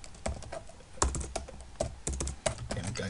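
Typing on a computer keyboard to enter a command: close, irregular key clicks with a few heavier strokes, no voices.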